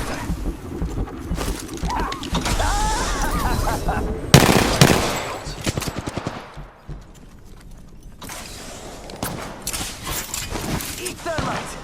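Bursts of weapon fire in Apex Legends during a pistol-only match, with sharp shots in quick rapid strings, then a quieter lull before more firing, mixed with game voice lines and other effects.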